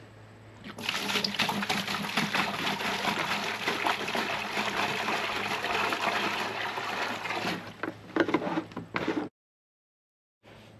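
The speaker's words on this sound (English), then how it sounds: "I'm going to put this in a bucket and add some water" Water pours steadily into a bucket holding a petunia, a continuous splashing gush lasting several seconds, then a few closer splashes and drips before it stops abruptly.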